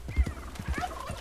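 A wild turkey gobbles in the open-world western game Red Dead Redemption 2, a quick, rattling burst of throaty notes heard fairly close with no talk.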